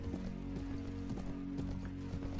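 Cavalry horses gallop in a medieval battle in Mount & Blade Warband, a steady rapid clatter of hoofbeats over a dense, continuous battlefield din.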